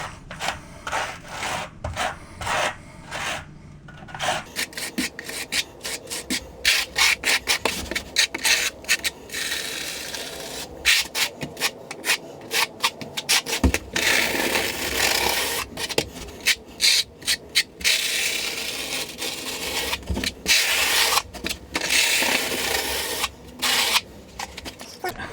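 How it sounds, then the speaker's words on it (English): A 4-inch square notch steel trowel spreads cement over a shower floor for hexagonal marble mosaic tile, producing continuous close scraping and rasping strokes with brief pauses between passes. "This is a 4-inch square notch trowel."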